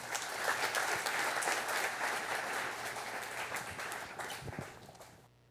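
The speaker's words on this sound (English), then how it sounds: "Big applause for Maya Kaplan." Audience applause at a fashion festival event, a dense, steady wash of clapping that stays fairly loud for about five seconds, then fades and cuts off abruptly.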